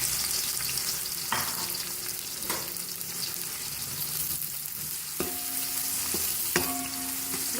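Finely chopped onions sizzle steadily in a quarter cup of oil for mutton pulao, with occasional stirring clinks against the pot and no talk.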